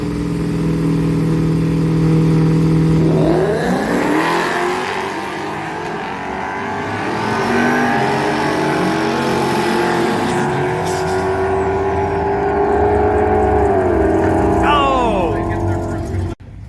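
A Mustang launches down the drag strip at Drag Week 2019, its engine roaring up through rising revs in a long, loud pull that sweeps past and fades, with voices in the background.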